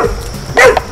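An emaciated, starved pit bull on a heavy chain gives a single short, close bark after some faint whimpering, with a brief rise in loudness mid-clip.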